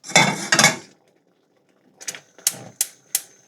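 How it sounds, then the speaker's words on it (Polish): Dry orzo pasta rattles into a metal pot in two quick pours, followed by a few sharp clinks and taps against the pot. "Wrzucam orzo."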